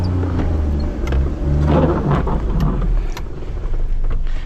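A Maruti Alto car driving slowly through tight streets in Shimla, a steady low engine drone with wind buffeting the microphone and a few sharp knocks and clicks, close and fairly loud.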